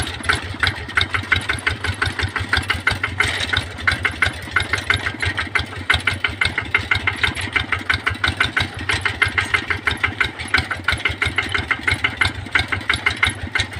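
An RT110 tractor engine chugs while plowing a field to prepare soil for planting chili peppers, a steady, fast, rhythmic thumping that stays loud and close throughout with no talk.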